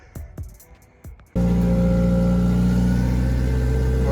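Nissan Silvia with a KA24DET engine starts abruptly after a few quiet clicks and knocks, then holds a loud, steady rumbling drone as it pulls away, pitch rising slightly toward the end.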